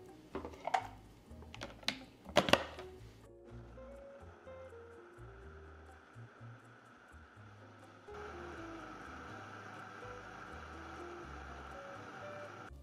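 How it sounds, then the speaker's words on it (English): A blender purees water, poblano peppers and cilantro: a few clattering knocks open, then a steady whirring roar that grows louder and fuller partway through, with no talking. "we're gonna blend till smooth"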